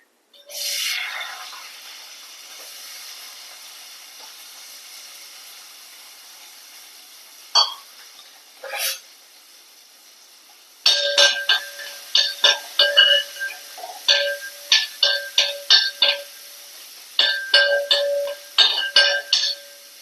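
Mustard seeds crackling in hot coconut oil, an initial burst of sizzle as onions go in, then a quiet simmering hiss broken by clusters of sharp pops and spatters that come in rapid bursts through the second half.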